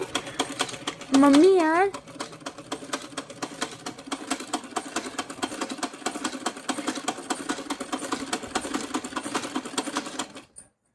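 A domestic sewing machine stitching fabric with a fast, steady mechanical rattle that runs for several seconds and then stops, close by; a voice speaks briefly over it near the start.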